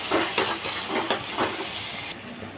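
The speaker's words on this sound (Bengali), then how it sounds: "টমেটোটাকে আর মশলাগুলোকে ভালো করে কষিয়ে নেব।" Chopped tomato and spices fry in a pan with a steady close sizzle and hiss, broken by a few scraping stirs of the spoon and no talk.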